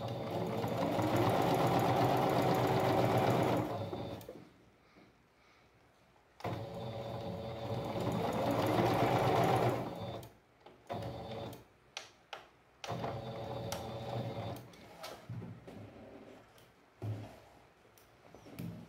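Sewing machine stitching fabric patchwork pieces for a rug, running in two long steady bursts of rapid mechanical whirring, then shorter stop-start runs with brief pauses between them, close and clear with no talking.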